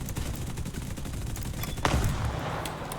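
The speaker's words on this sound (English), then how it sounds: "We extend flaps so we don't compress as badly, and we open fire." Machine guns on a P-38G fighter plane in a flight video game fire a dense, continuous rattling burst over engine roar, with a heavier hit partway through, loud and with no voices.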